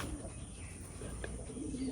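A pigeon in a loft gives a soft, low coo against a quiet, faintly noisy background.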